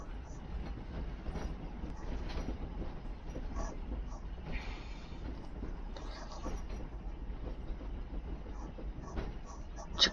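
A train rolls past in the Roblox Theme Park Tycoon video game, a steady rumbling clatter of wheels with faint squeals, moderately quiet and continuous, with some muffled background voice.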